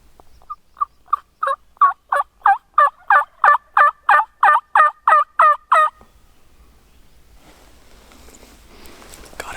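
A Merriam's wild turkey tom lets out a long run of evenly spaced, rattling pulses that swell to full strength and then stop abruptly, leaving quiet outdoor background.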